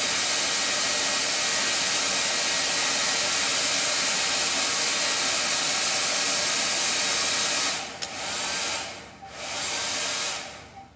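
A loud hair dryer blows a steady, roaring hiss while drying ink on a custom shirt, then cuts out briefly twice near the end before resuming.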